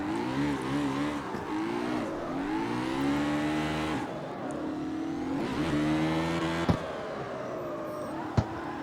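A hot rod in the CarX Street racing game drives with a steady engine drone that rises and falls through the gears, revving up repeatedly, with two brief sharp clicks near the end and no voices.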